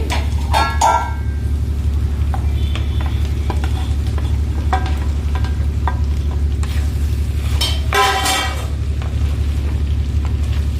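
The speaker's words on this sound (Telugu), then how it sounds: "ఇప్పుడు మామిడికాయ ముక్కలు వేస్తున్నానండి" Green mango pieces go into a sizzling raw banana curry and are stirred in, a loud continuous frying hiss close by with clattering ladle scrapes against the pan, including a sharper clatter near the end.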